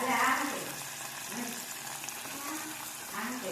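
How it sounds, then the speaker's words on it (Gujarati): Flour tipped into a hot tempered pan while making adadiya, a soft close sizzle and stir with a brief louder burst at the start, faint throughout. "અને પછી એની અંદર છે ને આવી રીતના લોટ નાખી દેવાનો"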